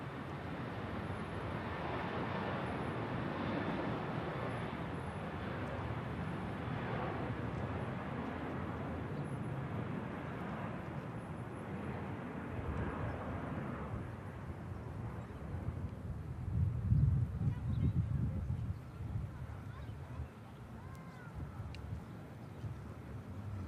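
A jet rolls down the runway for takeoff at Manchester Airport, heard as a steady, fairly faint broadband roar with wind noise. The rumble swells briefly in the low range near the end, with no voices present.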